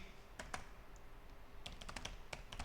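Quick clicking keystrokes on a computer keyboard, close and fairly faint. A few isolated taps come first, then a rapid burst of typing.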